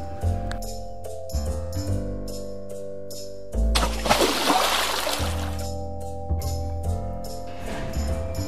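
Plastic toy dinosaur thrown into muddy water lands with a loud splash and sloshing, the burst mid-clip standing out over steady background music with smaller trickles after.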